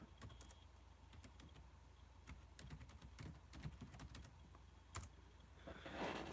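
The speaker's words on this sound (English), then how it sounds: "let me type this in" Rapid clicking of keys typing on a computer keyboard, fairly quiet and close, in irregular bursts over a low background hum, with a brief rustling swell at the end.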